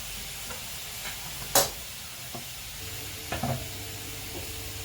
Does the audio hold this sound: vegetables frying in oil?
yes